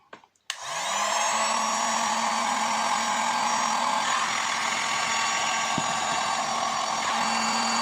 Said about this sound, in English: I'm just going to use the heat gun just to try and get some of the air bubbles out